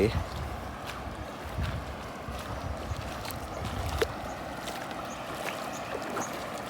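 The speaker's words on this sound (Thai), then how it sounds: "นี่ตรงน้ำไหล" Floodwater flowing through a flooded street, a steady low rushing wash with scattered splashes and gurgles close by.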